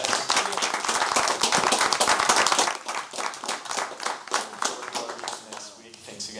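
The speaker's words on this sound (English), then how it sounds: "Give them a round of applause" Applause and clapping from the audience at a student senate meeting, a dense burst of many hands that stays loud for a few seconds, then thins into scattered claps as a voice talks over it.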